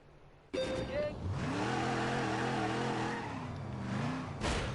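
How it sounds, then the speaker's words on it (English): A car spins donuts inside a former Detroit theatre turned multi-storey car park, its engine revving hard and tires squealing as the roar echoes loudly off the concrete walls and ceiling, rising and falling continuously. "donutting in a Detroit theatre that's been turned into a multi-story car park"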